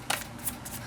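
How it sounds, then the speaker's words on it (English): A deck of tarot cards is shuffled in one quick, close riffle, a soft papery flutter lasting about a second against a steady background hiss. "I'm gonna shuffle one more time"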